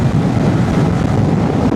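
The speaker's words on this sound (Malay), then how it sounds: "Angin agak kuat" Strong headwind roars over the microphone on a motorcycle ride in Perak, Malaysia. The buffeting is loud, close and unbroken, with no one talking.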